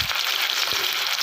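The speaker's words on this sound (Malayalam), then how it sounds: "ഇനി ഇതിലേക്ക് ഈ പീസുകളൊക്കെ അങ്ങോട്ടിട്ട് ഒന്ന് വറുത്തെടുക്കാം" Chicken pieces fry in hot coconut oil with a steady, loud, close sizzle and a couple of low thumps.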